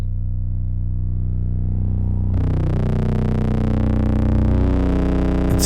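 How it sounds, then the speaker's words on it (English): A Berna3 analog synthesizer module driven at 10-volt output gives a loud sustained buzzing tone that jumps partway into a harsher, aggressively distorted, partial-rich sound, steady and alone. "very nice analog distortion."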